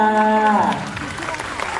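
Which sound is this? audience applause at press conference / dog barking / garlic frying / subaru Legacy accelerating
audience applause at press conference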